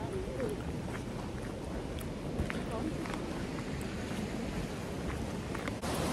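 Steady broadband rushing of fast-flowing river water fills the scene, loud and continuous, with wind buffeting the microphone.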